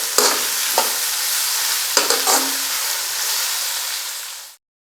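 Onions sputter and sizzle in a pan, with a few sharp knocks as they are stirred, before the frying noise cuts off abruptly at the end.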